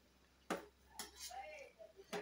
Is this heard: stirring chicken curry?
yes